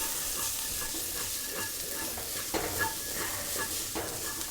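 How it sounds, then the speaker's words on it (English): Minced garlic sizzling in a pan as it is stirred constantly, a soft steady hiss with regular light scraping strokes, close and fairly quiet. "just continue to stir this after adding the garlic for 30 seconds"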